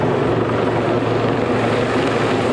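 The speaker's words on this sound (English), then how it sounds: "It's an Army Lynx helicopter which is just hovering over the pitch now" A British Army Lynx helicopter hovers over a rugby league pitch, its steady rotor and engine roar loud and continuous with a constant low throb throughout.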